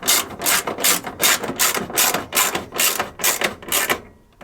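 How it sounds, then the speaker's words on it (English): A furnace cover's holding screws are driven home with a ratchet, producing a loud, close, steady run of rhythmic clicking bursts, roughly two per second, that stops just before the end. "now we'll reinstall this cover and tighten down the 2 holding screws"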